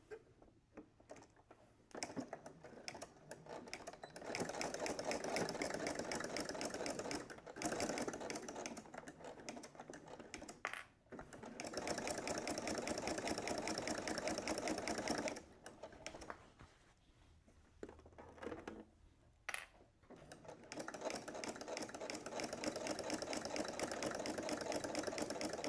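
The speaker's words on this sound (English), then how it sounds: "we're gonna stitch 1/4 inch down across this zipper trim here" Sewing machine stitching a quarter inch across the zipper trim of a diaper pouch, in fast rattling bursts of several seconds separated by short pauses, close and fairly quiet without talk.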